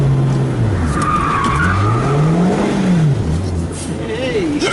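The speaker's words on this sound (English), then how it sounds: "Hey, straight into the power slide." A Lotus car goes into a power slide with its tyres skidding and squealing loudly, while the engine note rises and falls close by and a person talks over it.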